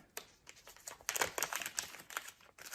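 Soft plastic crinkling and rustling in irregular bursts, close by and quiet, as a thin bag is handled.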